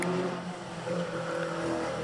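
A Citroën AX Sport rally car leaves the start of a hill climb, its engine note rising and falling fairly near, with no voices over it.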